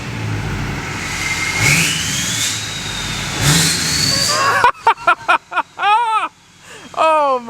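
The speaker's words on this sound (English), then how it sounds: "Here's one little rev." A diesel engine in an L5P Duramax pickup truck with a tuned setup runs loud and close. It surges up in pitch as it revs, then gives several sharp, choppy blips before it settles back down.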